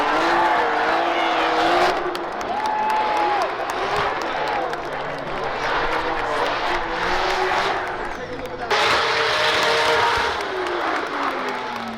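A Toyota GR Corolla drift car at a Formula Drift event roars past with rising and falling engine revs and tire squeal, a crowd murmuring around it while someone talks over the noise.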